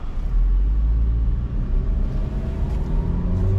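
A 2014 Perodua Myvi 1.3 SE automatic accelerates from inside the cabin, a loud steady low engine rumble with a gradually rising drone and road noise, no voices.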